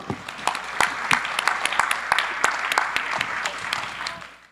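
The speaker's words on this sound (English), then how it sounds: "give a big round of applause for OncoDaily for all they are doing" Applause from an awards ceremony audience in Chicago, many hands clapping with distinct sharp claps standing out, sustained at moderate loudness before tapering off at the end.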